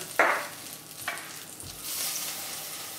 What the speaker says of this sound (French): on va faire dorer l'oignon et l'ail dans une poêle